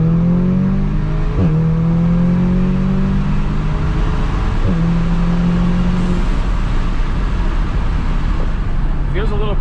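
Audi S3 fitted with an aftermarket downpipe, floored at full throttle from a trunk-mounted camera: a loud, steady exhaust drone climbing through the gears with brief dips at each shift and a crackle near the end.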